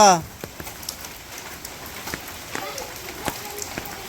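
Rain falls on surfaces in a soft, even patter with scattered drop clicks; a voice is heard at the very start.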